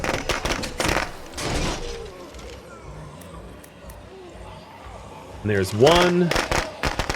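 Firecrackers go off in State of Decay 2 gameplay as sharp crackling bursts, first near the start and then in a louder cluster toward the end, with someone talking over them.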